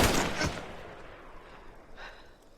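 Gunshot from a thriller film as Allison shoots Jack: a sharp burst at the start with a second crack near half a second, fading into a quiet tail and a faint later rustle.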